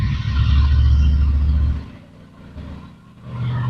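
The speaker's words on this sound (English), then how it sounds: "I really don't think your car should sound like that" Loud, deep rumble of a car engine that sounds faulty, close by, dropping off partway through, then a lower idle that builds back up at the end.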